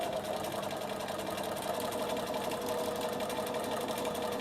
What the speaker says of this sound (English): Now I'm going to sew either side.